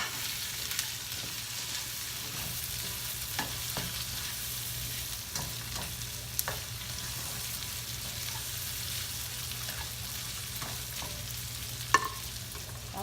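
Leftover hamburger stir-fried in a pan for a Filipino sugar pea and shrimp dish, with a steady sizzle and scattered clicks of a utensil scraping the pan throughout, no talking.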